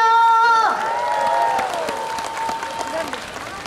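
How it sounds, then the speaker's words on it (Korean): A festival crowd at an outdoor summer celebration in Gangjin claps and cheers for a singer on stage, a broad wash of applause rising as the last sung note fades, with some shouting mixed in. "박수 한번 크게 쳐주시면 안 될까요?"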